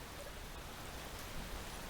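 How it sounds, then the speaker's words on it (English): Heavy rain in the video game Space Engineers pours as a uniform, fairly quiet hiss that holds steady from start to finish, with no speech over it. "even though the rain's pretty heavy"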